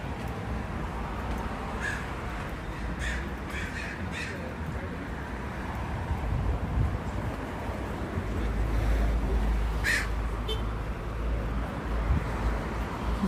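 Crows caw in short bursts over steady city wind and traffic rumble on a cloudy Sunday in Vancouver, with faint bird chirps scattered through.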